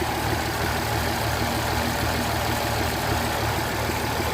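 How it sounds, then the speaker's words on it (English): Diesel engine of a Mercedes S-Class W221 idling steadily up close, a continuous low rumble with a faint uneven roughness running throughout, alone with no talk. "the engine is gonna start to run a little bit erratically"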